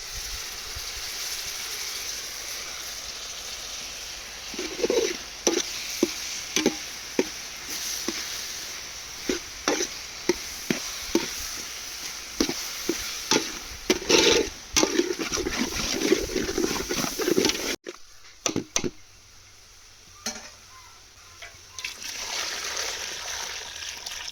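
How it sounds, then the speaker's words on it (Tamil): Village-style beef heart sizzles and crackles in a pan with coriander, curry, chili and turmeric powders, followed by a splashing pour of water and a softer bubbling simmer near the end. "மசாலாலாம் போட்டு தண்ணி ஊற்றி வச்சாச்சு."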